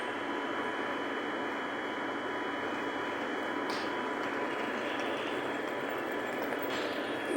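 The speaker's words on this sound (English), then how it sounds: "This is a Class 350 electric. The London North Western Railway." A Class 350 electric train of London North Western Railway, bound for Liverpool Lime Street, hums steadily at the station with a broad, continuous rushing and whining drone that holds a constant level throughout.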